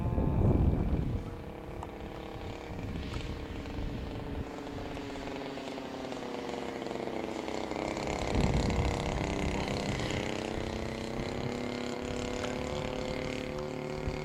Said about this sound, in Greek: Βέβαια δεν ακούγεται καλά ο κινητήρας έτσι. Είναι μπουκωτός, αλλά είναι επίτηδες, δεν πειράζει.